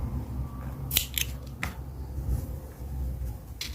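Scissors snip crochet yarn several times in quick, sharp clicks, heard up close and quiet with no talking.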